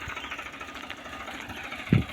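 A tractor engine runs at a farm field, giving a faint, steady low rumble with a single louder knock near the end.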